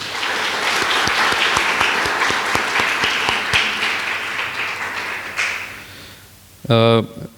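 An audience applauds for Reverend Shashikant Zombade at a Marathi gospel church gathering, a dense sustained round of clapping that fades out, followed by a brief tonal burst near the end.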